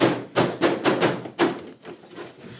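Plastic clips on the back panel of a Samsung QN55Q7CAMF TV snap loose from the chassis in a series of sharp, close pops, about five quick cracks spaced irregularly, fading into quieter rustling of the panel.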